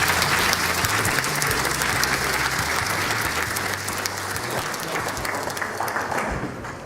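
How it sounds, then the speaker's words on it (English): Audience at an investors conference applauding a speaker, a dense sustained round of clapping from a crowded room that slowly thins toward the end. "I want you to help me with a round of applause for Richard Santana, CEO of Colectivo 360"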